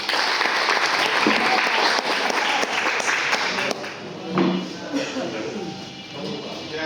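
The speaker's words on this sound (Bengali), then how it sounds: "তো সবাই একটা বড় করে তালি দিন।" An audience at a pigeon racing club's live race announcement breaks into dense, sustained applause that fills the first few seconds, then thins out as voices carry on over scattered claps.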